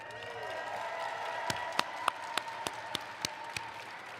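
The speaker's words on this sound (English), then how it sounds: "give yourselves a round of applause for being here" An audience at the opening ceremony of the Rube Goldberg Machine Contest World Championship 2025 keeps up a continuous wash of applause and cheering, with sharp individual claps near the mic landing in a fairly steady rhythm.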